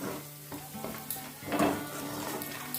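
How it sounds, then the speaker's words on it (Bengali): Chilli powder and Kashmiri chilli powder spices frying in a pan for a Mughlai pomfret curry, giving a soft steady sizzle with brief stirring scrapes and a louder burst midway. "মশলাগুলো অনেকটাই ভাজা হয়ে গেছে।"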